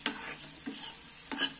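Spatula stirring scrambled egg in a frying pan, the egg broken into small bits after water was added: a few soft, quiet scraping strokes with faint sizzle, near and alone.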